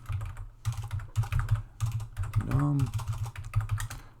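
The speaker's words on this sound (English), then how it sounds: "let me type that again" Steady, fairly quiet keyboard clatter as C code is typed during a programming lecture, keystrokes in uneven bursts under brief speech from a lecturer.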